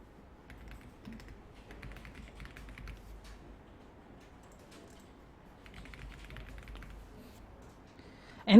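Soft keyboard typing on a computer, light scattered key taps in short bursts at low level over a faint room hum, with a sharp knock at the very end.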